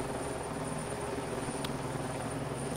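A helicopter drones steadily through an F1 2021 race cutscene, its rotor chop and engine hum loud and unbroken across the whole moment with no voices.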